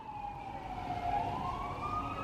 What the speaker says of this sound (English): let me wait for this siren to stop.